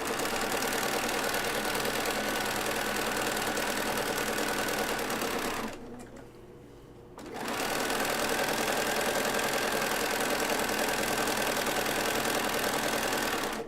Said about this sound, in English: I will go ahead and sew the entire length of this, so it'll already be stitched together.